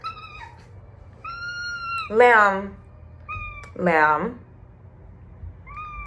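A pet cat meows repeatedly, wanting to play, with two long drawn-out wavering meows standing out among shorter calls, close and fairly loud, while a person talks softly in between.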